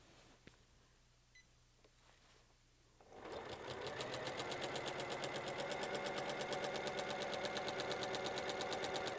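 A sewing machine starts up and stitches a quilt bundle held by a Weightless Quilter, its rapid, even needle chatter running steady and close after a few quiet seconds.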